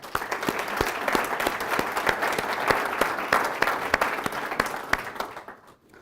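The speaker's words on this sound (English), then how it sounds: "Gardner with another round of applause." An audience applauds city staff at a State of the City address, a dense, sustained round of clapping that stays steady and then fades out near the end.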